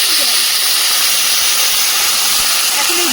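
Water poured into a hot pan of green beans hisses and sizzles loudly and steadily, a broad, close frying hiss throughout.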